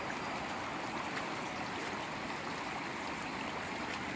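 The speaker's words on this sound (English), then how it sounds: "So this is now a stream." Floodwater from an overflowing creek rushing down a slope beside a footpath as a raging torrent, a steady, loud, broadband roar and splash filling the whole stretch without pause.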